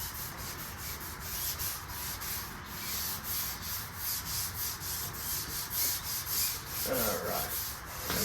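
Sandpaper rubs across Evercoat 4:1 polyester primer on an auto body panel in quick, rhythmic back-and-forth strokes, a soft, close, scratchy hiss with no voices.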